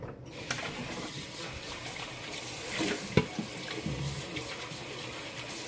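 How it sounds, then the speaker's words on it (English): Tap water runs steadily into a homebrew fermenter, a soft continuous splashing with a few small clunks of handling, quiet and close with no talking. "time to put a little bit of water"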